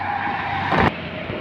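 A Trobo 20-foot truck taking a bend at high speed gives a loud, steady roar of engine and tyres, swelling into a short harsh scrubbing burst partway through before settling back.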